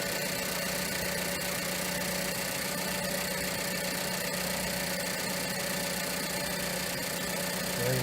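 A 2012 Ford Focus SE engine idles steadily with the alternator charging, a constant low mechanical hum and drone close by, unbroken and without speech.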